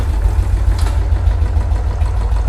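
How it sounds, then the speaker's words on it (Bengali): A used motorcycle in neutral idles at a bike showroom, its engine a steady low rumbling throb that stays even and close throughout, with no voices over it. "গাড়িটা নিউট্রাল করে স্টার্ট করবো"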